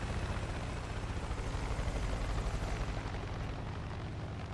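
A dense, rumbling rotor drone throbs continuously, steady and fairly loud, like a helicopter hovering close overhead, in the video game Far Cry 5.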